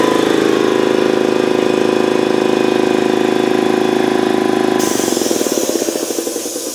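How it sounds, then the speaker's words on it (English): A refrigeration compressor runs with a loud, steady mechanical drone and buzzing hum, close by and alone, its tone shifting partway through before it begins winding down toward the end. "Let's get this fucking compressor off."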